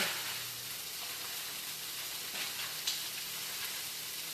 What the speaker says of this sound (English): I'm just, put a nice little sear on that